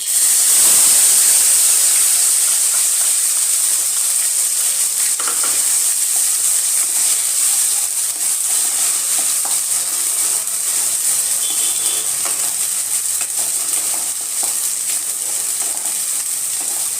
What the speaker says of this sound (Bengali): তেলটা আমার গরম হয়ে গেছে। এর মধ্যে যে আমি আদা রসুন টমেটোটা যে পেস্ট করে নিলাম, এটা এবার এর মধ্যে দিয়ে দেবো।